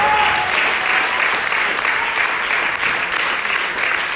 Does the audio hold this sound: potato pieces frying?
no